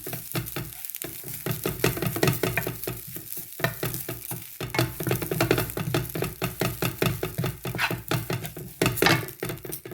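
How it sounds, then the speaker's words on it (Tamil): Grated coconut dry-roasting in a pan while being stirred briskly, a dense, continuous run of rhythmic scraping strokes over a crackling sizzle, close and steady throughout. "ஒரு நிமிஷம் வறுத்தா காணும்"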